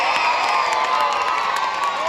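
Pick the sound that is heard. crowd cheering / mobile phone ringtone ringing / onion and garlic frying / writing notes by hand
crowd cheering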